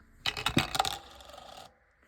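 Dice rattle down a dice tower in a quick, close, bright clatter of bouncing clicks, then settle into a brief rolling buzz before stopping, with no talking.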